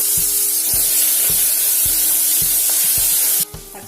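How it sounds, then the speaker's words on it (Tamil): Tomato and onion sauté in a pan with a steady hiss and a regular ticking of stirring strokes, close by, cutting off abruptly near the end. "தக்காளி வெங்காயம் எல்லாம் நல்லா வதங்கிடுச்சு."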